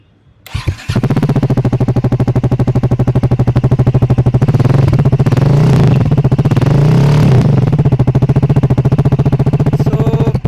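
A Triumph Scrambler 400X motorcycle starts up and settles into a loud, steady, thumping exhaust idle that runs continuously for several seconds close by.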